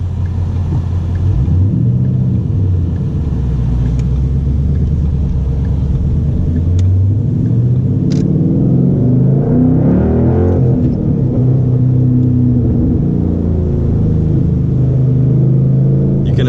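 A 2012 Ford Mustang Boss 302 engine rumbles low and steady, building revs as it pulls away in first gear, loud and close throughout.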